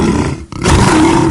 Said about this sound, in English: loud roar